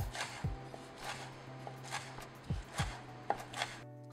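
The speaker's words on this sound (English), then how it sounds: "By this time, your bacon should be done cooking. Chop it up into bite-sized pieces." Knife chopping cooked bacon into bite-sized pieces on a board, a handful of distinct thuds spread unevenly across the clip, close and moderately loud over a steady low hum.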